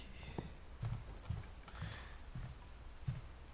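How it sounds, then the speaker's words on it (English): Soft, evenly spaced footsteps thud in What Remains of Edith Finch, about six low steps over a quiet ambient bed, faint and alone. "Keep hearing like footsteps."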